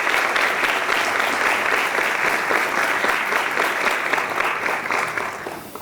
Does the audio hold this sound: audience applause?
yes